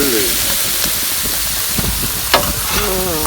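Andouille sausage with shallots and onions sizzles in olive oil and bacon grease on a Blackstone griddle. The steady loud frying hiss is broken by occasional stirring scrapes, and brief voice fragments show up near the start and end.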